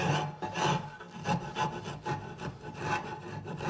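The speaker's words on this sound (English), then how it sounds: "get right in there with the rasp" Wood rasp filing along a curved Queen Anne joint, rhythmic strokes of coarse rasping repeating steadily at close range, each pass a short scratchy burst with no talk.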